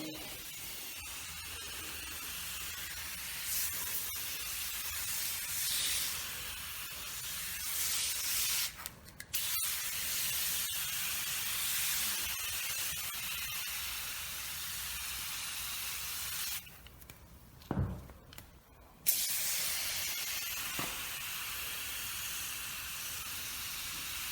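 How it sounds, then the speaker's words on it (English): Long steady hiss of an aerosol can spraying SilverWax carpet cleaner foam onto a C4 Corvette's carpet, continuous and close, with a couple of brief pauses before the spraying resumes. "So I'm gonna go ahead and spray them."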